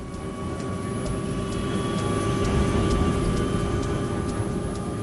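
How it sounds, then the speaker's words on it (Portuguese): A steady, loud airplane engine roar with a high whine holds and builds slightly as the engines spool up for takeoff, close and continuous. "Os motores rapidamente se aceleram."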